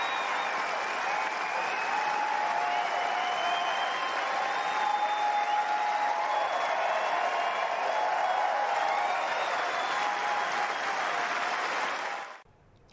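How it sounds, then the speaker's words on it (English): Wimbledon crowd on its feet for a standing ovation after a five-set match, a dense, steady wall of clapping and cheering that holds loud and unbroken for about twelve seconds before cutting off abruptly. "there was a 5-minute standing ovation for the players too from the crowd"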